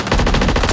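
Rapid automatic gunfire from Call of Duty MW3 Gun Game mode, a loud, close, continuous burst of evenly spaced shots with no pauses.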